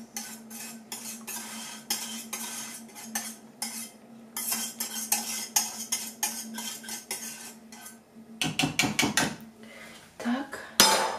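A metal spoon scrapes and clinks around a pot on a low gas flame in quick irregular strokes, with a low steady hum underneath and a louder clatter near the end.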